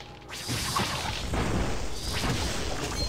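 A sorcerer's spell shot hitting enemies in Diablo 1 on Hell difficulty, heard as a heavy booming blast followed by a sustained rumbling crash that holds loud for several seconds.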